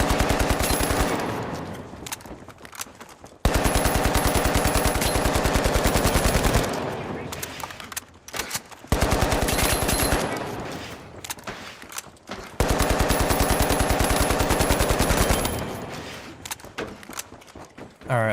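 Automatic rifle fire in The Finals, long sustained bursts of rapid shots that roar loud and close, broken by short pauses with footsteps and shuffling between strings.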